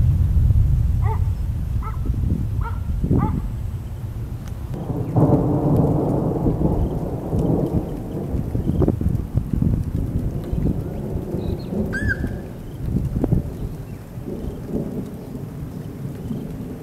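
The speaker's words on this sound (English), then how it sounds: "Currently on a severe looking storm. It's finally organising." Deep rolling thunder from a severe storm with large hail and lightning near Macksville, NSW, rumbling loudly and continuously over steady rain, with a sharper crack partway through.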